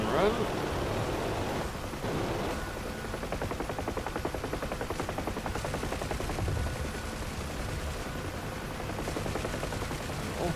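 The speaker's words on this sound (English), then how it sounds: "The gunner's found something to shoot at, but I can't see anything." Door gunner on a UH-1H Huey helicopter in a combat flight sim fires a sustained, rapid machine-gun stream over steady rotor and engine roar, the bursts running continuously throughout.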